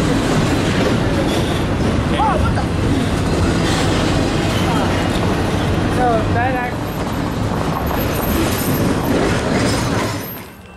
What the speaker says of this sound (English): Another eastbound with another intermodal.